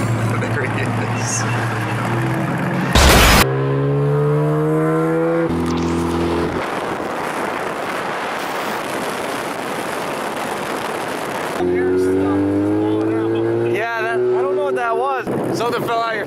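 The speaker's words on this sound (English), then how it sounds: "there's a Ferrari right behind us" Engine and road noise from vehicles on a highway, including a Ferrari driving close behind, show harmonic engine tones that rise and shift between gears, with wind rush and people talking over it.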